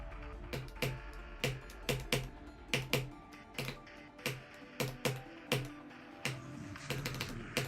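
Computer keyboard keys click in a steady, rhythmic pattern of single sharp taps roughly every half second, close and clear, with almost no other sound during a rhythm game stream.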